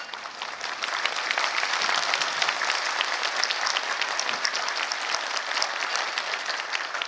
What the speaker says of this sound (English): shall we start to clap for him?